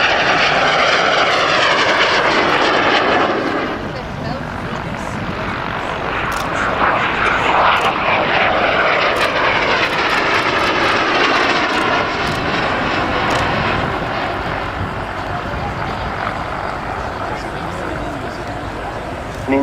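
BAC Strikemaster and Jet Provost jets fly past at the RAF Cosford air show, a loud, sustained roar that swells and fades under a commentator's voice.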